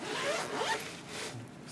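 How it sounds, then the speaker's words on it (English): Zipper pulled open on a padded Flasc barrel bag, one quick close ripping run lasting about a second, loud and alone. "Zips open like so."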